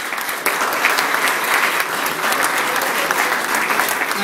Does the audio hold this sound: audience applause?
yes